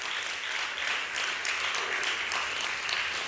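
A church congregation claps together during a New Year's Eve thanksgiving service, steady dense applause that fills the room and holds evenly from start to finish.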